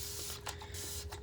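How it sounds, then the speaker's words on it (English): A spray bottle hisses in a few short bursts during a resin cross pour, faint against a steady background hum. "Let me spray."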